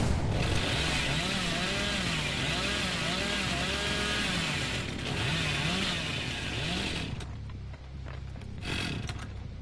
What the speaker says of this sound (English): I let the chainsaw rip